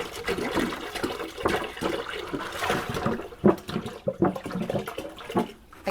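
About 1.5 gallons of distilled water gush into a container of cucumbers and alum for pickle brine, a loud, splashing pour that surges and sloshes, then trails off into uneven gurgles and drips.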